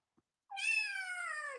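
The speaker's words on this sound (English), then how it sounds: "It's not as loud as the cat." A single loud, drawn-out cat meow lasting just over a second, rising then slowly falling in pitch, alone against a quiet background.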